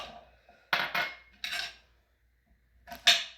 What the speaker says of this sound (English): Now chop up my garlic, my fresh garlic.